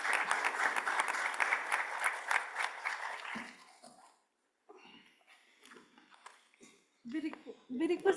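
Conference audience at an international legal event claps for about three seconds, a moderately loud burst that fades, followed by scattered faint voices and small sounds in a quiet hall.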